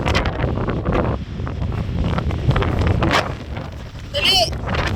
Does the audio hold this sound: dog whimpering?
no